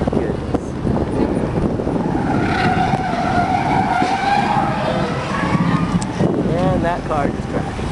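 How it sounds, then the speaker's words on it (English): A car skidding during a tornado in New Orleans, with a rising tyre squeal over constant roaring wind and rumble, while voices talk underneath throughout. "And that car just crashed."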